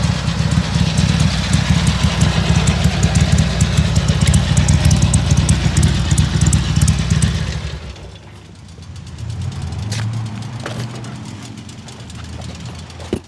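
A 1981 Harley-Davidson XLH 1000 Ironhead Sportster idling close by with a loud, steady, lumpy rumble that drops away after several seconds to a quieter engine murmur.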